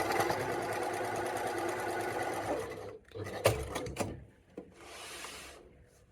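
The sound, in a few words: sewing machine stitching fabric for a tunic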